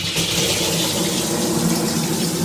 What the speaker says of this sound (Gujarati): પાણી ભરાવા મૂકી દીધું છે અહીંયા